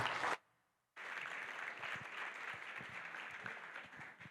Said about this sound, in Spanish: Recibamos con un fuerte aplauso a Fernando Vázquez.